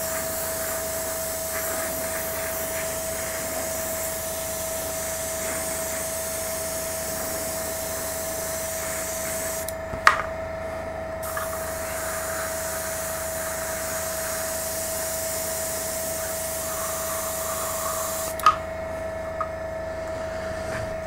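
An airbrush powered by a quiet air compressor sprays primer onto a Tamiya T-55 tank model, a steady close airy hiss that stops briefly twice with small clicks before resuming.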